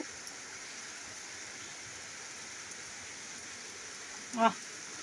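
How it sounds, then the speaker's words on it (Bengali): Rain falls steadily as a soft, even hiss throughout, with one brief sharp sound near the end. "অবশেষে বৃষ্টির দেখা মিলল বন্ধুরা আমাদের এখানে বৃষ্টি শুরু হয়ে গেছে"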